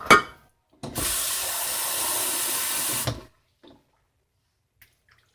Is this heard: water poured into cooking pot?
yes